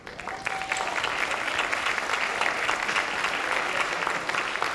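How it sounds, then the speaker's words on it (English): Steady, full applause at a regular public meeting honoring students for a math award, many hands clapping in a continuous wash of sound, close and sustained. "give them a big round of applause"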